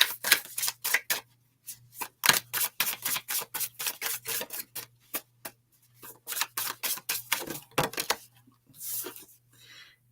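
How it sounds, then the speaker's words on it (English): Tarot cards are shuffled during a psychic reading, making quiet, rapid bursts of papery riffling and slapping that come in uneven clusters with short pauses between them. "And then we're going to shuffle them up."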